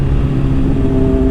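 A Honda CBR600RR sport motorcycle with a flashed ECU runs loud and close, giving a dense, steady engine drone with strong humming tones and no voices.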